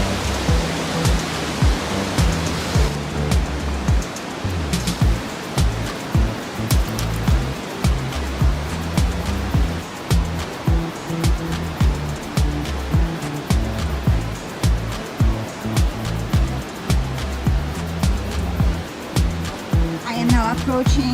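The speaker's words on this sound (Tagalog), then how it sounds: "That's Coquihalla River." The Coquihalla River rushes nearby as a loud, continuous roar of flowing water, with rhythmic thumps, likely footsteps, pulsing over it.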